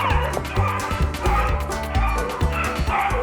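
Hunting dogs bark repeatedly on a hot rabbit track in the woods, with a dense chorus of overlapping bays and yips that rises and falls and stays loud and fairly close.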